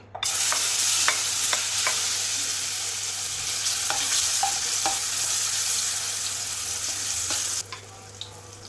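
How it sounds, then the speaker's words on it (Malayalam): Small-cut nendran banana pieces frying in hot ghee in a pan, a loud continuous sizzle close up with occasional stirring taps that drops away near the end. "ഒരു നേന്ത്രപ്പഴം ചെറുതായി കട്ട് ചെയ്തെടുത്തിട്ടുള്ളതാണ്. അത് ഇതിലേക്ക് ഇട്ട് കൊടുക്കാം, ഈ നെയ്യിലേക്ക് ഇട്ട് കൊടുക്കാം."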